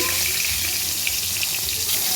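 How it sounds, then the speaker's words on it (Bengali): A steady, loud sizzle of fish frying in hot oil, a dense crackling hiss that holds evenly throughout with no voices. "তেল গরম হয়ে গেছে মাছটা দিয়ে দিয়েছি"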